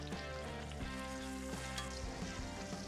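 Duck breast sears in a cast iron pan, giving a soft, steady sizzle and crackle that holds without voices.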